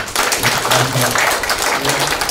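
Audience at a regional education council meeting clapping to welcome the superintendent, a steady wash of applause from a room of people with a voice or tones faintly beneath it.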